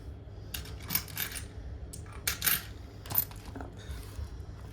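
A 2 euro coin dropped into a paper budget envelope, giving a few light metallic clinks and rustles close by in a quiet room, with no talking.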